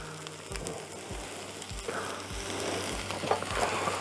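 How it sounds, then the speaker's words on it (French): An omelette fries on a rocket stove, giving a steady, close sizzle and crackle throughout with no talking. "L'omelette demande juste à être cuit tranquillement, partout."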